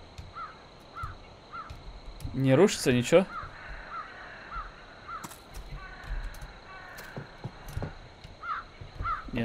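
A crow caws repeatedly in the Cursed Forest video game, faint rhythmic calls spaced through the scene while someone talks quietly, with a brief louder burst of sound partway through.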